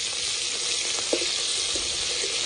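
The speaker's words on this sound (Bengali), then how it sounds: "মাছগুলো ভাজা হয়ে গেছে" Small tengra fish frying lightly in oil, a soft steady sizzle with a few brief bubbling pops and no voices.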